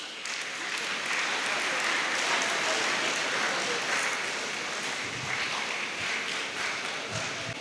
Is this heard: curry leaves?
no